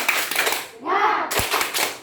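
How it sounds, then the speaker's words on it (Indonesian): Children clap together in a rhythmic classroom cheer, with short bursts of hand claps around young voices calling out; the clapping sounds close, mixed with chanted speech and a brief pause in the middle. "kita tepuk semangat dulu ya"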